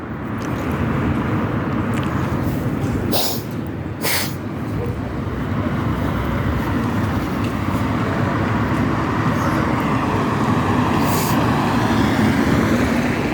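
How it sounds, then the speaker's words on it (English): A bus passing by on a road, a loud, steady engine rumble and traffic roar filling the whole stretch, with a couple of brief sharp noises early on. "What the hell is that bus?"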